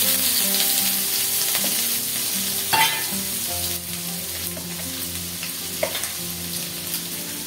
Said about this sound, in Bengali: লবণ দেব আলুটাকেও আমি লাল লাল করে ভেজে নেব